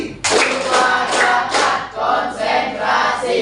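Group clapping in the tepuk konsentrasi routine, a burst of claps from many hands in a loose rhythmic pattern, loud and close, with a few brief dips between bursts.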